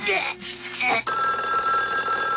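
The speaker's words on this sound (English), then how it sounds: "Get the phone, get the phone, get the phone!" A telephone bell rings loudly and close, a sustained electronic trill following a short burst of hurried speech and bustle in a comedic household scene.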